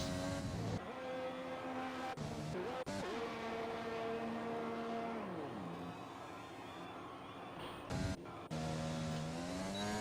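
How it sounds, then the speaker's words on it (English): Formula-style race car engines in an Xbox racing game scream loudly, with a car entering pit road. Revs rise and fall through gear changes, the engine tone briefly cuts out and then resumes. "And that is a car entering pit road."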